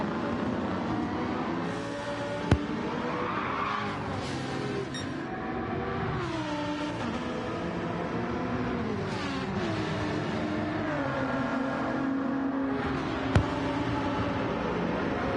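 Race car engines in a sim racing endurance series, a Porsche among them, drone steadily throughout with overlapping revs rising and falling under a continuous roar, with a couple of sharp brief clicks.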